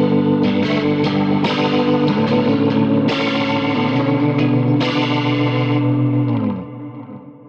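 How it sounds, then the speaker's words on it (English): Electric guitar run through a Walrus Audio Julia vibrato pedal rings out in wavering, chorus-like chords and struck notes, close and full, fading near the end. "That's the Julia vibrato."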